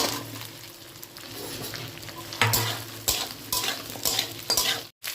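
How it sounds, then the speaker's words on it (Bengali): Mixed vegetables with ridge gourd and ginger paste frying together in a pan, a steady close sizzle broken by a few louder stirring scrapes, with no voices. "খুব ভালো করে সব কটাকে একসাথে ভেজে নেব।"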